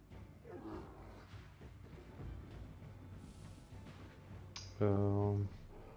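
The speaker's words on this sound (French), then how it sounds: "Faudra juste que Kern tape son ours avant qu'il tape." A bear growls during a Wartales video game battle, one short loud roar near the end that stands out over background game sounds and a voice talking.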